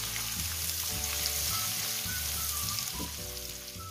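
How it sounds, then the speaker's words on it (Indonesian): Dried anchovies keep frying in oil until crisp, producing a steady close sizzle with bubbling crackle and light scraping of a stirring utensil, no voices present. "Goreng sampai ikan bilis ni betul-betul garing."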